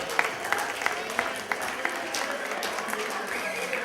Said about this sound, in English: nice round of applause for Steve and Tiffany